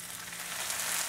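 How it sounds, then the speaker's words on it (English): Chopped onions and Roma tomatoes sautéing in a hot pan, giving off a loud, steady, dense sizzle that holds constant for the whole stretch. "We're gonna let that saute for about 5 minutes, moving it around occasionally."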